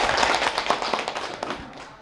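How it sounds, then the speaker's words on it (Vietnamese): Audience applause at a wedding ceremony, a dense burst of overlapping claps that starts strong and gradually thins and fades over two seconds, with no speech over it. "Rồi cho một tràng vỗ tay đi quý vị ơi."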